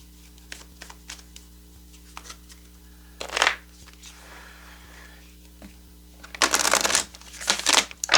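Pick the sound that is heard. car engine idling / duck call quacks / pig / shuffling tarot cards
shuffling tarot cards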